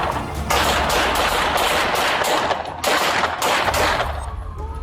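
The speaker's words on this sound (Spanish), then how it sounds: "Estallaron disparos." A rapid burst of loud gunfire crackles in dense volleys during a police confrontation outside an apartment, with several shots fired in quick succession over a few seconds.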